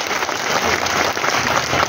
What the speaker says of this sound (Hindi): मैं चाहता हूं जरा पीछे तक के लोग एक बार जरा बड़ी वाली ताली बजा के सहयोग।